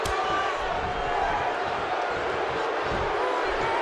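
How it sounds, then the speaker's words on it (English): A wrestling video game arena crowd buzzing in a dense, steady roar with scattered claps and shouts, loud and continuous throughout, with a commentator's voice over it. "The crowd is buzzing."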